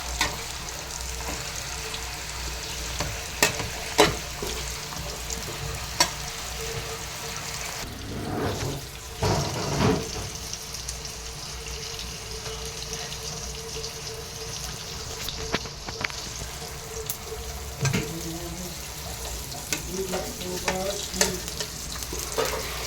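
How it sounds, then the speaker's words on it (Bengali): Leafy greens, Malabar spinach, sizzle in a hot pan while being stirred: a steady, faint frying hiss runs throughout, broken by occasional scraping and clinking of the utensil against the pan. "শাক ভাজি হইতেছে"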